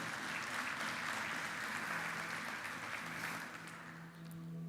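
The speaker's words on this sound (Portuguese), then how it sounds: "Você pode aplaudir ao Senhor, que é um Deus de livramento?" Church congregation applauding the Lord during a sermon; a sustained, even wash of many hands clapping at moderate distance, easing slightly near the end, with a faint tonal hum underneath and no speech.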